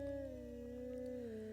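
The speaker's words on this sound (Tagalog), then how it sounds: "Idagdag pa ang alulong ng aso sa hindi kalayuan." A dog howls at a distance at night in a rural village, one long sustained wavering howl that holds steady for the whole moment, faint and far away with no voices nearby.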